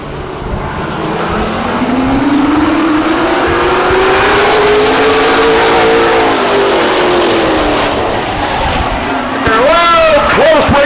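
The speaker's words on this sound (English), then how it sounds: "Close racing indeed going into turn 1." Race cars at Stockton 99 Speedway, a loud continuous engine roar that rises and falls as the pack passes, with a sharper revving pitch sweep near the end, under a track commentator's voice.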